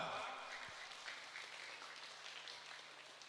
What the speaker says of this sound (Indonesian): Tepuk tangan dulu untuk Rafa.